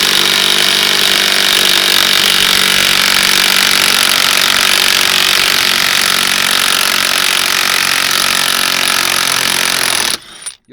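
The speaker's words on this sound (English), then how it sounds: "You need to grab a rattle gun and take that bolt off." A rattle gun (impact wrench) on a cross-threaded steering wheel bolt of a Holden Commodore, a loud, steady buzzing whir held for about ten seconds before it abruptly stops.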